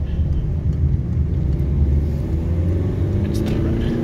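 A car pulls away from a road junction with a steady, low engine rumble, close and continuous throughout.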